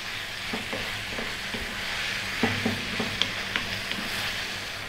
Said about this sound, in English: we're gonna go for 7 or 8 minutes, stirring this and stirring it and stirring it to get it on its way